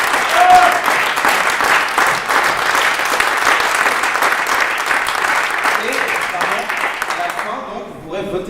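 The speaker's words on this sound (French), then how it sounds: "Je vous demande s'il vous plaît de les applaudir très très fort" A theatre audience at an improvisation show applauds loudly and steadily, a dense wash of clapping that holds for several seconds before cutting off abruptly near the end.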